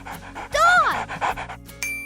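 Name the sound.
dog panting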